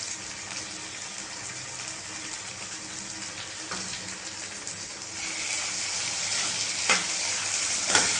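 Brinjal and grated coconut stir-fried in a pan, a steady soft sizzle with scraping stirs and a couple of sharper clinks, growing slightly louder toward the end.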